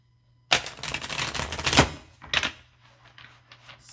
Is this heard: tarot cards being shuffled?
yes